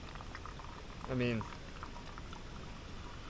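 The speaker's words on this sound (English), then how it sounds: "This entire bag should fill up this 1 liter bottle" Filtered creek water pours into a 1 liter bottle outdoors during a backpacking trip: a steady liquid trickle with a brief, louder rising gurgle as the bottle fills, and a short bit of speech.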